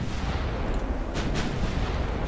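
Warship guns from Ultimate Admiral: Dreadnoughts, an 1890s naval battle game, rumble as a dense, continuous low boom of distant artillery, with a couple of sharper reports near the middle.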